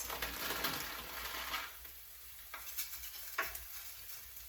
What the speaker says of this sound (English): I just want to make sure that I get this mixture stirred around and that it covers the rice.